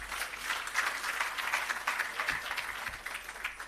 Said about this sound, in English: Please give him another round of applause.